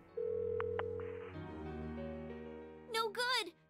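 Phone ringing tone in Persona 4 Golden, a steady electronic ring with a couple of brief blips, over game background music, ending with a short burst of voiced game sound.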